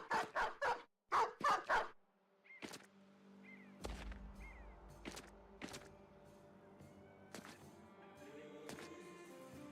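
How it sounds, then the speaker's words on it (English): A pack of dogs barking in the Battle Brothers video game: sharp, loud clustered barks burst out at the start, then quieter game effects and scattered thuds follow. "That is a whole lot of dogs."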